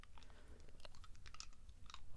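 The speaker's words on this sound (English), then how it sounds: "It sounds like chewing." Soft, close chewing for an ASMR recording, a quiet run of irregular crunchy bites and moist clicks, very low in level and with no talk.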